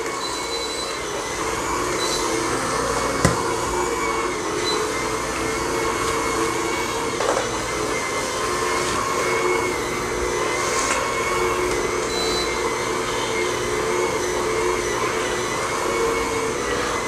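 A Bissell SpinWave floor cleaning machine runs continuously at close range, a steady dense motor whir and brushing drone with no pauses and no talking.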